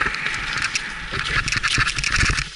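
A bicycle on a mountain descent, brakes hissing and scraping over steady rolling and wind rush, a continuous gritty rasp with small rattles from the bike.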